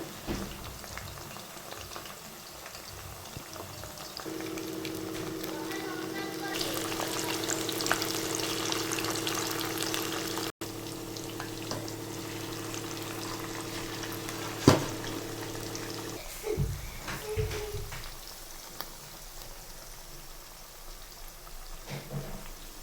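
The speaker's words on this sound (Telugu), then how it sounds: "మంచిగా డీప్ ఫ్రై అవ్వనివ్వండి" Chicken pakoda pieces deep-frying in hot oil on a medium gas flame at home, a steady loud crackling sizzle that swells midway and carries on with occasional pops, no one talking.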